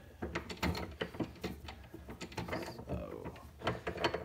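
A wrench tightens an AN hose fitting: quick metallic clicks and ratcheting scrapes repeat in close, irregular bursts, with a brief spoken word at the start.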